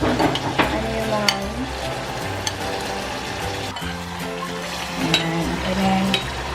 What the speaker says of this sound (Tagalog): Ito na yung garlic sauce. I-simmer lang natin sandali.